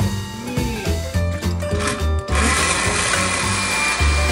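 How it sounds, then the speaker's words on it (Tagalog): A blender grinds and strains against a thick load of mango, its motor pulsing in short uneven bursts before settling into a steady, labored roar, loud and close. "Gago to yung blender, di kaya."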